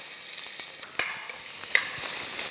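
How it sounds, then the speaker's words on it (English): Onions and a bay leaf sauté gently in oil inside a pressure cooker for mulligatawny soup, giving a soft, steady sizzle broken by a few faint clicks and stirring taps, heard close but quiet. "Just lightly saute the onions."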